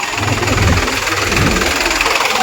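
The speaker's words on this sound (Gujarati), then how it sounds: "ટ્રેક્ટર હવે આવે" A tractor engine runs nearby with a low, chugging idle, rough and continuous, swelling slightly as it draws closer.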